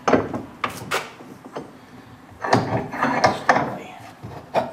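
A brand new arbor press works on a Maytag 72 engine part, pushing out an old bearing: a series of sharp ratcheting clicks and metallic clunks in uneven bursts, close up, with pauses between strokes.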